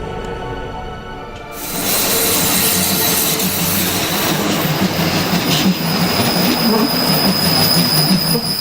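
A Rhaetian Railway train runs on the Albula-Bernina line, starting quietly and then swelling into a loud, continuous rumble of wheels with high metallic squeals and rattling carriages, close to the track.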